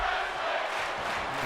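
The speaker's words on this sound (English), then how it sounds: "You can hear the excitement from a sold-out crowd here in Jersey City" A sold-out wrestling crowd in Jersey City cheering and screaming, a dense, distant-sounding wash of voices lasting a brief moment.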